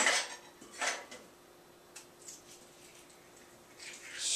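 A spoon scrapes avocado flesh into a bowl in a few quiet, brief strokes, with soft clicks and pauses between them in an otherwise near-silent kitchen.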